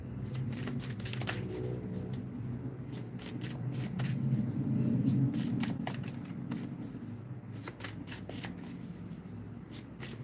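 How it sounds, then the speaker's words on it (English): Rapid riffling and soft slapping of a tarot deck being shuffled up close, in repeated bursts with brief pauses between. "Let me shuffle real quick."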